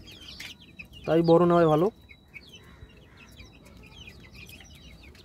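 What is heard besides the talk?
chickens clucking, kept for eggs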